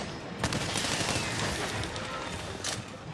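Bowgun fire in Monster Hunter World aimed at a monster's head, dense overlapping booms and blasts in a continuous barrage, with a couple of sharper shots standing out.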